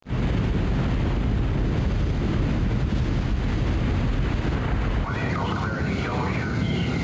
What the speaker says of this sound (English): They just picked up an underwater explosion.